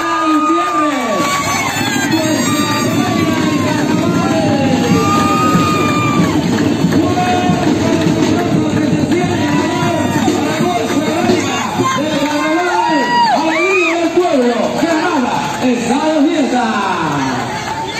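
A large carnival parade crowd in Granada cheers and shouts loudly and continuously, with excited voices and babble filling the air throughout.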